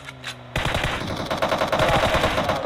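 Automatic gunfire in the video game PUBG: a loud, rapid burst of rattling shots starting abruptly after a brief quiet moment and continuing in a dense string to the end.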